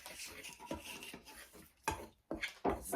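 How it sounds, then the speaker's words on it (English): Oatmeal raisin cookie ingredients stirred together in a bowl, a few scraping and knocking strokes of a spoon against the sides in uneven rhythm, close and fairly soft, with a voice faintly present. "Just kind of stir it together a little bit."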